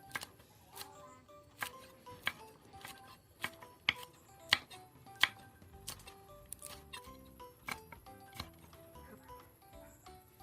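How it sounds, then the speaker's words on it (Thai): A knife taps sharply on a cutting board in quick, uneven chops while slicing chili peppers, close and fairly quiet, with short pauses between bursts. "ซอยพริกกันเลยครับ"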